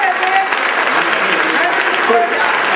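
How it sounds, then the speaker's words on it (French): Dense audience applause fills a variety show stage, steady and loud throughout with a faint voice or two poking through the clapping. "Est-ce qu'on l'applaudit? On s'encourage?"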